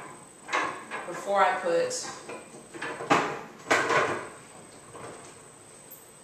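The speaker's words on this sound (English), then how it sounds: "So now I'm going to put the lid on" A plastic lid being set and pressed onto a Tower Garden: a few sharp clacks and knocks of hard plastic, close by, in irregular bursts while a person talks.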